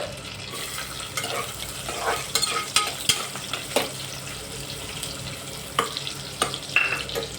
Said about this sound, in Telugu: ఆనియన్స్ కొద్దిగా వేగాక